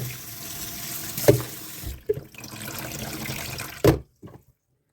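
Bamboo shoots are rinsed under a running kitchen tap, water splashing steadily into the sink with a few louder bursts and clunks before the flow stops abruptly near the end.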